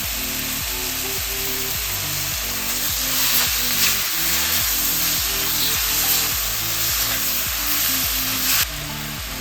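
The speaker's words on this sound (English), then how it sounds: "So I'm just going to pour this directly into the wok." Sweet chilli sauce hitting a hot wok, a loud continuous sizzle and fry with rapid rhythmic clattering underneath as the food is stirred, close up and without talk.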